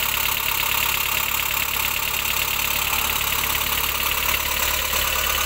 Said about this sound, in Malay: Ni suara enjin. Dia sangat kasar.